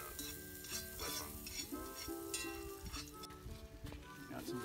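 Bagels cooking in a pan over a King Rocket Stove at a campfire, a faint sizzle under light scraping and clinks as sticks push and flip them, with tonal music or hum in the background.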